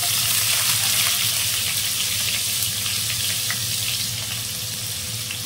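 Onion and semolina frying in a pan, a steady close sizzle with broadband crackle that fades slightly toward the end, no voices.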